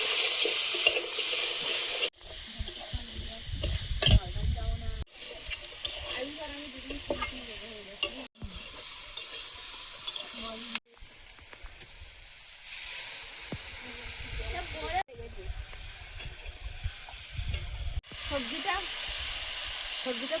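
Drumstick vegetable pieces frying with potatoes and cumin paste in a pan, a steady sizzling hiss broken into several stretches, with spoon stirring scrapes throughout.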